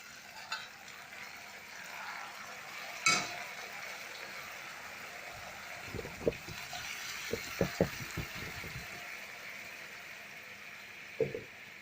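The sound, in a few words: boiled yellow lentils stirred into fried tomatoes in pan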